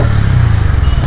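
A new Bajaj motorcycle's engine runs with a loud, steady, close-up rumble as the bike is started up to be ridden.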